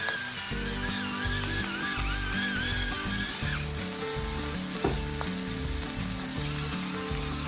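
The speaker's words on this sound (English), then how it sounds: "We're browning both sides, get a nice brown on it." Hamburger steak patties browning in a hot pan give a loud, continuous sizzle and crackle, close up and dense throughout, with a faint background hum and a couple of brief utensil scrapes.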